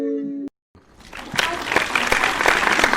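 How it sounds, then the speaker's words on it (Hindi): An audience at a Hindi poetry gathering breaks into applause, a dense, building clatter of clapping that follows a spoken introduction and a brief pause, growing louder toward the end. "जोरदार ताली से स्वागत करिए आप सूरत से आई सोनल जैन जी का"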